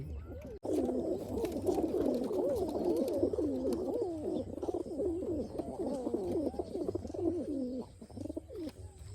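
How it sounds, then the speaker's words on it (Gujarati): Roller pigeons, including a white one, at a rooftop loft coo continuously in soft overlapping calls close by, a steady murmuring rhythm with no voices. "બાકી એક સફેદ કબૂતર આ બેઠું છે કાયમ એ જ બેઠું હોય"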